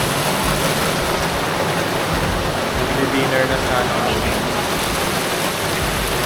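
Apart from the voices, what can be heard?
rain falling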